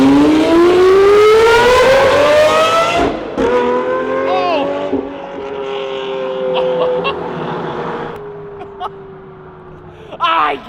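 A Lamborghini engine roars loudly past, its pitch sliding down as it passes close, then a lower growl fading into the distance.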